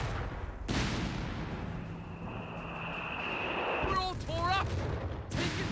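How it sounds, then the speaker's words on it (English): A light German infantry gun fires in Company of Heroes 3, a Deutsches Afrikakorps match, with heavy booming blasts at the start and the end over constant battle rumble, plus whistling shell sounds in between, all with talk over it. "Got a lightest Infanteriegeschütz acting out. Little piece of a light artillery there."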